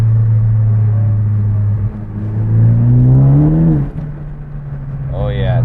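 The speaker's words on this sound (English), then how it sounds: "it sounds a little smoother exhaust notes, definitely getting more air" A Ford Focus ST with a newly installed intake idles with a steady low exhaust rumble, then rises briefly in a smooth rev before settling back. A short whistle sounds near the end, and no one speaks over the engine.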